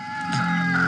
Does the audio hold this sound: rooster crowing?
yes